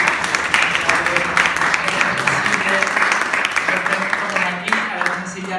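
Conference audience applauds in a busy hall, a steady wash of clapping with voices and murmured talk mixed in, fading slightly toward the end.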